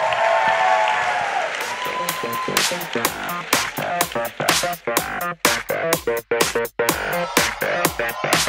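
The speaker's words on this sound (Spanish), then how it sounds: "se llama Edja Barragán, y le damos un aplauso de bienvenida." An audience at a design talk welcomes a speaker with applause that starts scattered and builds into steady, close clapping, thinning out toward the end.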